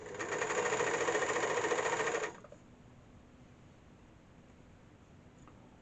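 A serger stitches stretchy ski pants fabric in a fast, loud, even whir for about two seconds, then stops abruptly, leaving only faint room hiss.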